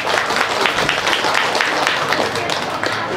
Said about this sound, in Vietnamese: Chúng con xin được tất cả mọi người cảm ơn cho chúng con bằng một tràng pháo tay dành cho anh em.